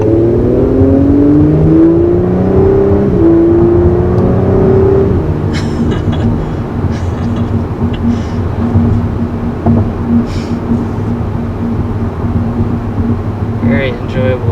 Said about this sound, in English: you can definitely tell we dial up the exhaust and everything.